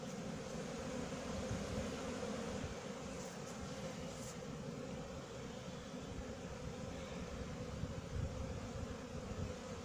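A honeybee swarm being shaken into a hive, heard as a steady, dense buzzing drone that holds at an even level throughout with no voices.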